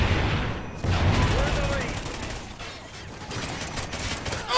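Rapid gunfire and explosions from a Call of Duty: Ghosts multiplayer match, dense and loud throughout, mixed with game effects and a player's voice.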